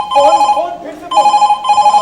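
On an Urdu drama stage, a telephone rings loudly in repeated electronic bursts with short gaps between them, a voice briefly overlapping the first ring.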